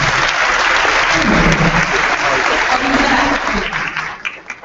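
An audience at a leadership retreat claps for special guests, a dense, steady round of applause that holds for several seconds, then thins out and fades at the end.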